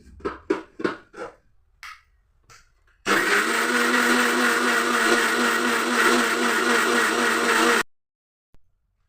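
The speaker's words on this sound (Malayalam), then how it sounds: "അപ്പോൾ അത് മിക്സിയിൽ അരക്കിട്ടെ" A mixer grinder whirs loudly and steadily for several seconds, then cuts off, with a few brief voice-like sounds before it starts.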